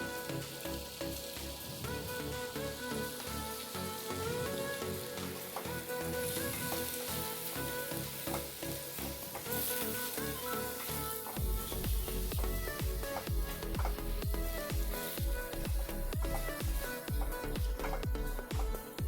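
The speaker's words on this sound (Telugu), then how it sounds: "ఉల్లిపాయలు మెత్తపడేంత వరకు వేయించుకోవాలండి మధ్య మధ్యలో ఇలా మిక్స్ చేసుకుంటూ కలుపుకుంటూ ఉండాలండి" Onions fry in a pan for a Spanish omelette, giving a constant close sizzle with occasional stirring scrapes and background music running alongside.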